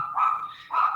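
A small female dog gives two short, high-pitched barks close by, with a brief gap between them and no speech.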